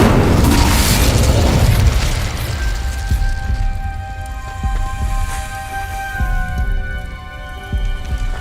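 Incendio fire spell cast in the video game Hogwarts Legacy: a loud whooshing burst that settles into crackling fire and rumble, with faint tonal game sounds underneath.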